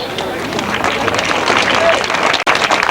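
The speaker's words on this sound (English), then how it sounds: "We're all clapping" A crowd applauds steadily at a 1992 grasstrack motorcycle meeting as the most improved solo rider is called up, with dense continuous clapping mixed with crowd chatter throughout.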